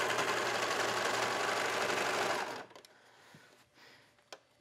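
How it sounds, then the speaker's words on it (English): A serger sewing machine stitches elastic onto leggings in a fast, buzzing, continuous run for about two and a half seconds, then stops abruptly, leaving quiet handling noises and a faint click. "So as we sew, we're going to be stretching the elastic,"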